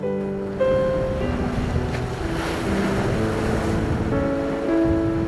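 Rough winter sea surf breaks along the rocky Ulleungdo coast, a continuous broad wash of waves with a steady boat-like engine drone running underneath.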